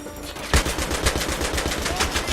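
Rapid automatic gunfire in Battlefield 3 crackles continuously with a sharp burst near the start, dense and loud in a firefight.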